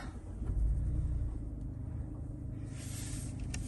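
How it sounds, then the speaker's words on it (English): A Mazda CX-5 2.0 SKYACTIV-G automatic car engine turns over with a low rumble, then settles into a steady idle hum, close by, with a brief hiss near the end. "Now if we just start the vehicle up."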